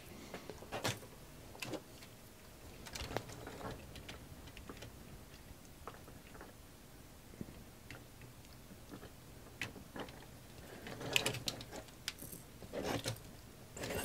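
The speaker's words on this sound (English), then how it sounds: "There's also a flap that folds down and plugs into that little notch there." Flaps on a plastic knockoff Transformers Devastator toy are folded and plugged into place, making scattered quiet clicks and taps close by, with no speech.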